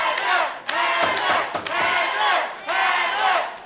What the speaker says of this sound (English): The crowd behind Heather the Heat Hardy.